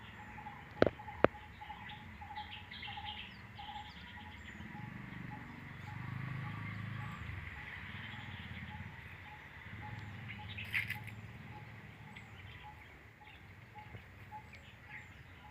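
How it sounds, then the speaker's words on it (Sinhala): Small birds chirp and call in a home flower garden outdoors, faint and somewhat distant over a low steady background hum, with two sharp knocks near the start. "කුරුල්ලොත් කෑ ගහනවා."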